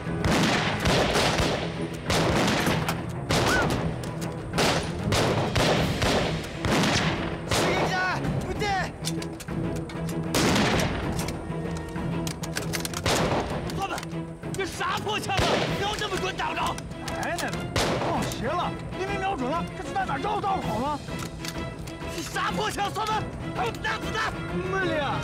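Dense gunfire from a war film about fighting Japanese troops, rapid bursts of shots, crashes and explosions in quick succession, loud and close throughout, with shouted voices mixed in.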